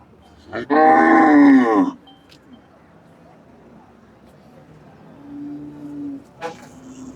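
One loud, close moo from a dairy cow at the Erode cattle market in India, lasting over a second, then a quieter low lowing call later over soft background noise.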